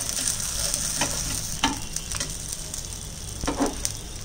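Sabudana vadas fry in hot oil, a continuous close sizzle broken by scattered sharp pops and crackles, with no talking.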